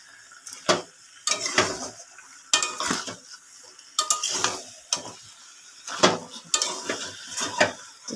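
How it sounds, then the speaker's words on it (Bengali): Chicken with spices is stirred in a metal pan, the utensil scraping and clinking against the pan in irregular bursts with a faint sizzle in between, close up and with no talking. "চিকেনটা আমি মিশিয়ে নিই"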